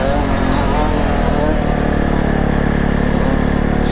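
Yamaha Banshee 350 two-stroke ATV engine running loud and close, a continuous raspy high-pitched drone with quick revving surges near the start, then holding steady.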